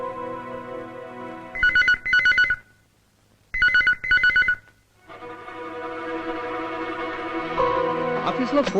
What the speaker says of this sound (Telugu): ఆఫీస్ లో ఫోన్ రింగ్ అవుతుంది